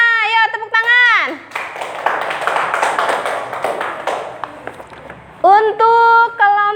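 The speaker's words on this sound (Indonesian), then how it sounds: "Ayo tepuk tangan." Children in a classroom clap their hands together in a burst of mixed, scattered claps lasting a few seconds, with young voices speaking just before and after.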